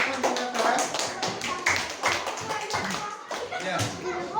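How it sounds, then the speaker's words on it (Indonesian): Students in a classroom clap for a classmate, a dense, lively patter of hands at close range, with voices mixed in throughout. "Silakan tepuk tangan Daraka."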